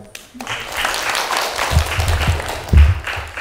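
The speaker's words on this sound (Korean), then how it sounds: "박현호 교수님께 다시 한번 큰 박수 부탁드리겠습니다" Audience applause at the close of an evening public science lecture in Daegu, a dense sustained clapping that swells and rises toward the end, with low thumps mixed in.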